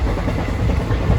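Inside a passenger train travelling from Mumbai to Ujjain, a steady low rumble and rattle of the carriage rolls on continuously with no voices.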